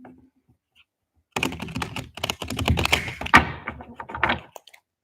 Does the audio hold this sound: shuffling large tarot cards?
yes